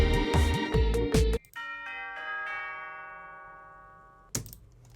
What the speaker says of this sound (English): We have some tubular bells, again very much out of that suburbia sound world. Sounds a bit like a doorbell.